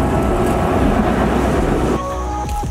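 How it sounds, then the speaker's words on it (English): A train passes over the Nine Arch Bridge in Sri Lanka, a loud close rumble and clatter of railcars that drops to a quieter hum with faint tonal ringing near the end. "I also got to see the train pass by."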